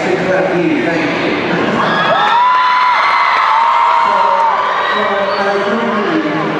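A crowd at an interview with an actor claps and cheers loudly and continuously, with whoops and shouts rising through the noise and a voice carrying over it.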